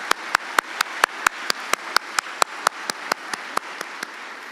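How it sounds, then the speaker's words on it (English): A single person claps at a commencement ceremony, about twenty sharp, evenly spaced claps close by that slowly soften and slow toward the end. "Please give these individuals a warm applause."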